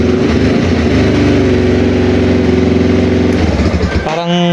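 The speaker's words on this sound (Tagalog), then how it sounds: "i-start yan kasi may power" Motorstar Z200 motorcycle engine, hampered by a weak power supply to its starter, runs at a steady rough idle for about four seconds, loud and close, before cutting out abruptly.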